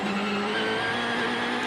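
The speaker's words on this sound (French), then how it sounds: "Et voilà, il franchit la ligne, Mikko Järvonen." A rally car on stage 17 at Haguenau in the 2013 Rallye de France Alsace races toward the finish line, its engine a steady, loud roar with a sustained whine throughout.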